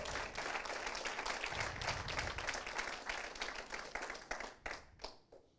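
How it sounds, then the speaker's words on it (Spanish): A church congregation claps hard and steadily in praise, a dense wash of many hands that thins into scattered claps near the end, with no one talking over it. "Si le va a dar un aplauso, dáselo fuerte al Señor"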